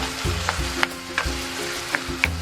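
Ground beef with potatoes sizzles steadily in a pan, a close continuous frying hiss with several sharp crackles and pops spaced through it, no talk.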